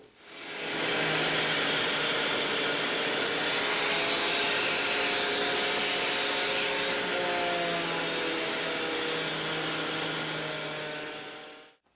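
A steady, loud motor drone from a homemade power sander running with 220 grit over wooden mantel clock pieces, continuous for about ten seconds with no talking.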